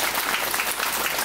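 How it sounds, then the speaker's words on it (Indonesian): A church congregation at a Mass claps for a family, a brief burst of dense, continuous applause from many hands. "Kita tepuk tangan untuk keluarga"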